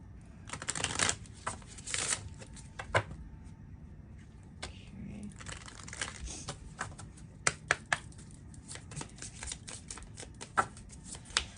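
Santa Muerte Lenormand cards being shuffled, a soft papery riffling and flicking in quick bursts that keep going for several seconds, close and quiet, with no talking.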